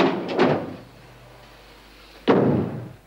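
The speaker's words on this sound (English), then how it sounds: "Karen, shut the door" An office door shuts with two muffled thuds, the second a heavier close after a short quiet gap, set in a TV drama scene.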